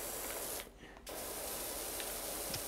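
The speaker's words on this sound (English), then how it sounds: "spray down your gas supply with water" Power washer jet hissing steadily in the PowerWash Simulator video game, spraying water over a gas supply, loud and continuous with one short break in the middle.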